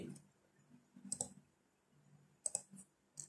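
Someone types 1/x on a computer keyboard in GeoGebra, producing quiet, close keystroke clicks in small irregular clusters with pauses between them, and no voices.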